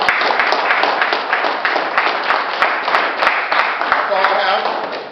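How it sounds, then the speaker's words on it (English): Steady applause from a group, dense clapping running continuously at an even level, with some voices mixed underneath. "I want to actually give you guys a round of applause."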